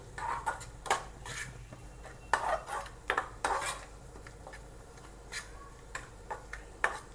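A spoon scrapes and knocks against a pan while chilli powder and spices are stirred in, giving sparse, separate metallic clinks and taps at close range with no talking.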